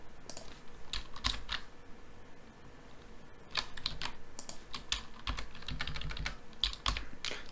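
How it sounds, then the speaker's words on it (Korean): A folder path is typed on a computer keyboard, with fast, close clattering keystrokes in uneven runs and a brief pause near the middle. "폴더 상자에서 폴더 또는 컴퓨터의 경로를 입력하거나"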